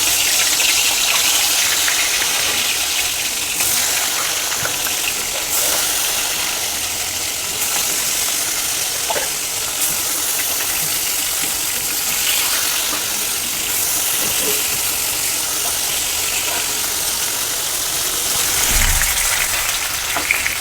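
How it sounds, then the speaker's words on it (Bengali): Pieces of katla fish frying in hot oil in a wok, a loud continuous hiss and crackle that stays steady and close throughout, with no voices. "আমি এবার একে একে মাছগুলো ছেড়ে দেব।"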